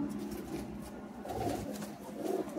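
A pair of Jiriya pigeons coos softly in a loft, low throaty rolling calls close by, rising and falling in short bursts over quiet background.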